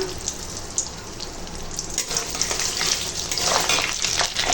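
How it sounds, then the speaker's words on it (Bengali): Cashews and raisins fry in a mix of ghee and oil with a steady, close sizzle and spitting crackle that grows a little louder toward the end. "এখানে সাদা তেল আর ঘি একসঙ্গে মিশিয়ে নিয়েছি এবার কাজু কিশমিশ দিয়ে দিলাম"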